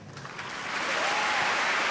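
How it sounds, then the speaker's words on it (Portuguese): A congregation at a Catholic Mass applauds in a church, a broad wash of clapping that swells and grows steadily louder over two seconds, with no speech over it. "uma salva de palmas"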